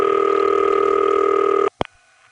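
A loud, steady telephone ring from a crossbar exchange with a continuous high tone layered in, stopping abruptly after under two seconds, then a sharp click and quiet line noise.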